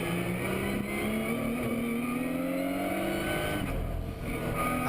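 Lotus race cars compete at the Hockenheim circuit, engines droning loud and close as one car's pitch climbs steadily under acceleration, with a brief dip as it passes.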